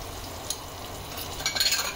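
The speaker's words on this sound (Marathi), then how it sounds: "आता ही मिरची आपण परतायला टाकली" Green chillies frying in oil in a pan with salt, a soft continuous sizzle, then a short burst of scraping stirring near the end, close by and without speech.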